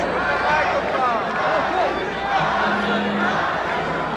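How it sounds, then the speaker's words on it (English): A large boxing arena crowd at Muhammad Ali versus Trevor Berbick roars and chants steadily, a dense continuous wash of voices heard from a distance, with a rising chant breaking through partway in. "The crowd is starting to chant, Ali, Ali, like old times."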